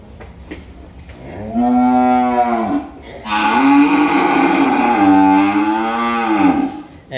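Cattle at a cattle farm give two long, loud, close moos, the second fuller and more drawn out, with a short quiet gap between them and no talking.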